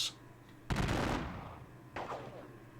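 Gunfire from units in the WDS Gettysburg video game, one loud burst of massed rifle fire that rolls off slowly, then a second, fainter volley shortly after.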